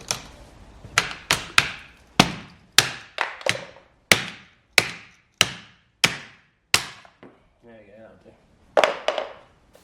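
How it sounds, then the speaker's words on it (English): A series of sharp, loud metallic hammer blows smashing off a car seat adjuster at a steady pace, about a dozen strikes with short ringing decays and a brief pause near the end. "I ended up smashing off the seat adjuster with a hammer"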